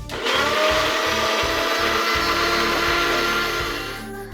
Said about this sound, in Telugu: మనమైతే మిక్సీ పట్టేసాము